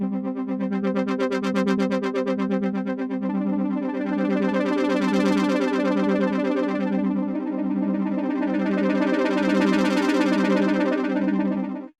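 A sustained synth pad chord with a pulsing low note, its tone slowly brightening and darkening in sweeping waves as it plays on without a break.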